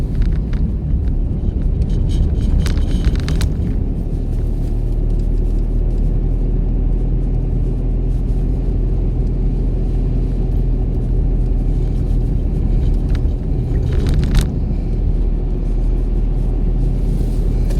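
A car's engine drones during a driving-school lesson, a loud, steady low rumble from inside the cabin that holds throughout, with a few brief higher rattles near the start and middle.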